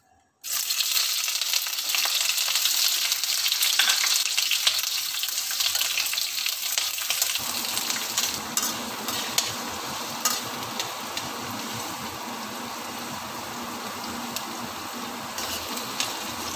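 Onions sizzle and crackle steadily in hot oil in a pan while pork liver steak with tofu is prepared, the frying starting abruptly and continuing loud and close, with scattered stirring clatter and no talk.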